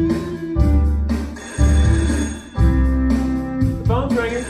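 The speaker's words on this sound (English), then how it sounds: "The phone's ringing." A telephone rings in a home setting, several repeated ring bursts with short gaps, fairly loud and close, partly overlapped by a voice speaking.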